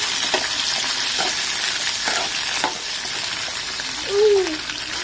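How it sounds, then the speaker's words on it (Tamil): Shallots, tomato, drumstick and eggplant sautéing in a pan for a Tirunelveli-style tamarind curry, a steady close sizzle broken by occasional stirring scrapes, with a short tonal squeak near the end. "சின்ன வெங்காயம், ஒரு தக்காளி, ஒரு முருங்கைக்காய், ஒரு கத்திரிக்காய் வச்சிருக்கேன். அதை போட்டுக்கலாம். நல்லா வதக்கிக்கலாம்."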